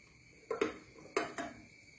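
A steel tumbler clinks twice against the metal rim of a hot steamer, each placement giving a pair of quick, close, ringing knocks with no voices.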